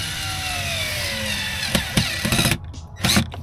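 A power drill driving screws into wood during a camper van build, a sustained whirring motor followed by short revving bursts and stops, close and fairly loud, no talking.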